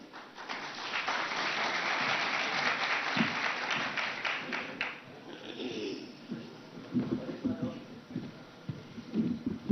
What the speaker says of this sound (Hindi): और जोरदार तालियों से उनका स्वागत कीजिए।